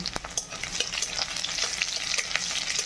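Onion and garlic fry in hot oil with cumin and five-spice, giving a steady bright sizzle broken by light stirring scrapes and small pops, up close, with no talking.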